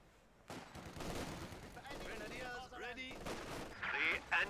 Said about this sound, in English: MG42 is firing upon this building now